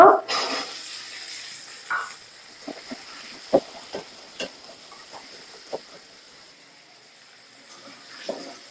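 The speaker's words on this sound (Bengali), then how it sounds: "হালকা করে ভেজে নিব পেঁয়াজটা আগে থেকে আলু কেটে রেখেছি দিয়ে দিব" Onion and potato fry lightly in a pan, a soft low sizzle punctuated by several sharp stirring knocks and scrapes, close by and fairly quiet, with no speech.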